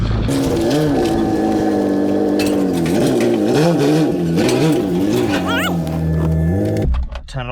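A car running with its rear end removed and only a surge tank for fuel revs loudly and steadily, its engine pitch rising and falling in waves close up before cutting off abruptly near the end.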